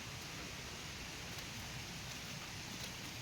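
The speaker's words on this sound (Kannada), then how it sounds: "ನೋಡಿ, ಮಳೆ ಬರ್ತಾನೆ ಇದೆ." Heavy rain pours steadily over a farm during the monsoon, a dense, even hiss of drops on surfaces that stays loud and unbroken throughout, with no voices.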